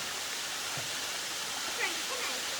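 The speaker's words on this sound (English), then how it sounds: "there are 5 levels to this waterfall" A waterfall with five levels in Thailand's Koh Chang rushes as a steady, broadband wash of falling water, close and continuous, with faint voices barely audible underneath.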